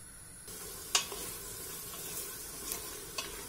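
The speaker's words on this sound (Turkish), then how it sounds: "Bu şekilde kavuralım biraz soğanımızı." Onions and diced beef cook in a pan with a quiet steady sizzle, a few sharp utensil knocks and stirs breaking through, close and alone.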